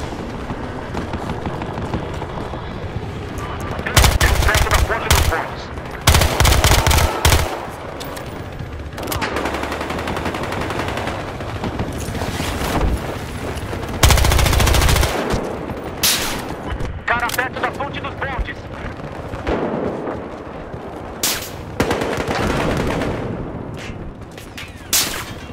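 Bursts of automatic gunfire and heavy explosive blasts in Battlefield Hardline multiplayer, loud rapid volleys separated by quieter stretches, with a player talking in between.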